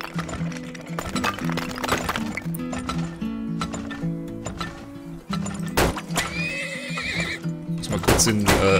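Horses in the video game Turmoil neigh and whinny repeatedly over busy game sounds and thudding hooves, fairly loud and close, with no speech.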